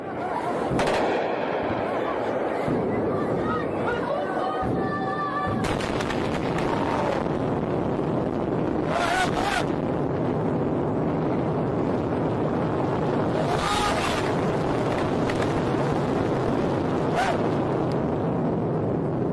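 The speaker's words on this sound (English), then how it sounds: "take a look at this bomb explosion" Bomb explosions in war footage, loud bursts of blast noise rising over a constant windy rumble, several separate booms spread across the scene, with a voice talking at times.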